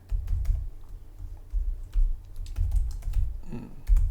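Computer keyboard being typed on during a programming session, bursts of quick clicky keystrokes with short pauses, close and fairly loud, no talk.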